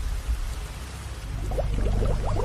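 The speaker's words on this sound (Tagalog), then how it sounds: "lalong lumalakas ang ulan." Steady rain falls as a dense, even hiss with low rumble beneath, growing slightly heavier toward the end, with no voices.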